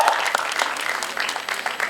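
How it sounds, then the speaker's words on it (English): A crowd applauds at a college farewell party award announcement, steady dense clapping from many hands across the whole short stretch with faint voices mixed in. "Let's have a huge round of applause for him."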